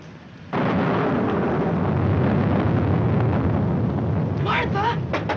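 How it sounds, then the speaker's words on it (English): Steady, loud roaring rain pours down as a storm rages, filling the whole scene after a sudden onset, with a rumble beneath and a few voices heard faintly near the end. "I'm afraid of the thunder and lightning."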